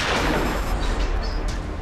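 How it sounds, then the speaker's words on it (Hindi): A gunshot fired inside a stopped car during a kidnapping standoff, heard as a short muffled burst of booming blasts with rumbling low end, followed by a brief sharper crack. "अभी अभी गोली चलने की आवाज आई है गाड़ी के अंदर से।"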